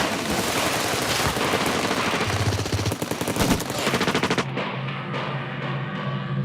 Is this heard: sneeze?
no